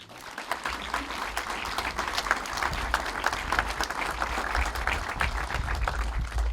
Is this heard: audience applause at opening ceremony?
yes